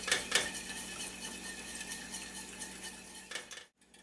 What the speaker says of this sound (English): just make sure you whisk it in really fast and really good